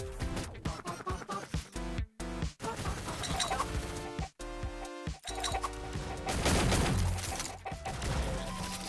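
Grenade blasts and gunfire in the egg-shooter game Shell Shockers, a chaotic run of sharp bangs, crashes and clinks with brief silent gaps, layered over game music and growing denser toward the end.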